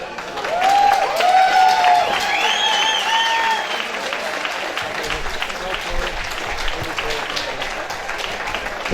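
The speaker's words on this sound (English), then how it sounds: "Give him a massive round of applause." A crowd at a boxing charity event breaks into loud, sustained applause and cheering, with a voice talking over the clapping early on.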